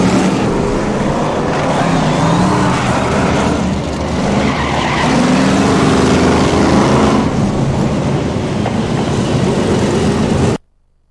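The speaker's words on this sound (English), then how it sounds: "it's Murray Harrison who takes it in car number 97" BriSCA Formula 1 stock cars racing at Northampton, a steady loud roar of engines with skidding and tyre noise filling the whole stretch before cutting off abruptly near the end.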